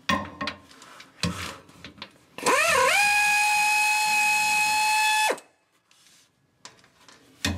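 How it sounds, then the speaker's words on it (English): Air ratchet spinning out snug rear differential cover bolts on a 2016 Ford E-450 motorhome, a loud sustained whir of about three seconds with a rising pitch sweep at the start, set between quieter clicks and handling noises. "I'm going to use an air ratchet to take them out."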